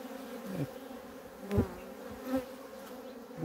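Honey bees buzz steadily around a hive in October in Ardahan, Turkey, a close droning hum with a few louder swells as individual bees pass near.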